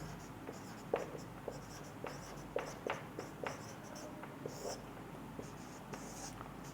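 A teacher writes on a board during a class, giving a series of faint, irregular taps and short scratchy strokes under a quiet room tone.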